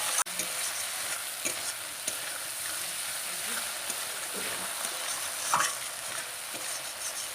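Spiced potatoes being stirred in a frying pan for a village-style fish curry, a steady scraping and sizzling throughout with a faint clink near the start and a brief louder scrape late on.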